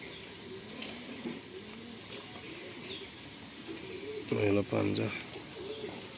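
Pigeons for sale coo in a low, repeated murmur, with one stronger burst of cooing near the end, while someone talks over them in the foreground throughout.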